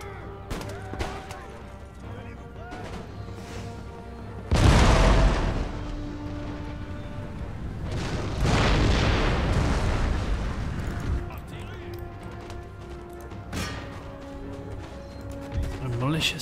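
Round shot cannon artillery fire in the strategy game Empire Total War, with two heavy booming blasts and rolling echoes over scattered battle noise while someone talks.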